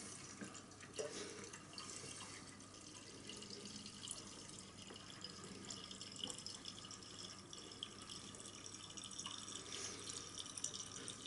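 Raspberry wine trickles through a siphon into a jug, a continuous close splashing and dripping of liquid, steady and moderately loud with no talk.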